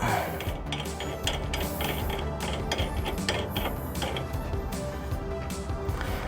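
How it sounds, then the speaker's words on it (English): Rapid metallic ratcheting and clicking of an adjustable wrench loosening a nut on the front suspension of a 2021 Kandi Batman, close and continuous with no talk. "we'll just take an adjustable wrench, loosen up this nut"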